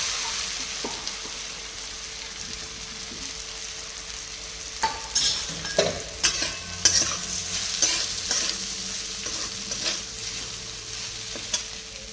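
Sago pearls (sabudana) stirred and fried in hot oil with cumin, a steady sizzle punctuated by scraping spoon strokes that grow busier midway, close and moderately loud with no talking.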